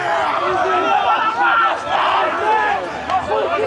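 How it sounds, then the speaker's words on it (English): Sideline spectators and players cheer and shout at an under-18 boys' rugby league match, Akarana against South Island at a national youth tournament, forming a continuous loud babble of voices and crowd noise. "So we hear the sideline and the boys cheer."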